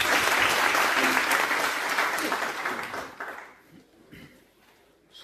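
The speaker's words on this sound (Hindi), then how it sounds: "मैं आपसे रिक्वेस्ट करूंगा उनके लिए तालियां हो जाए" A seminar audience breaks into sustained applause, a dense wash of clapping that holds steady, then tapers off into scattered claps and quiet room noise.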